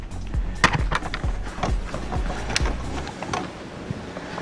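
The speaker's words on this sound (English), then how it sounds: "And that removes our dirt tube." A plastic dirt tube is worked loose and pulled from a bagged vacuum cleaner, giving a close run of hollow plastic clunks, knocks and rattles at an uneven pace.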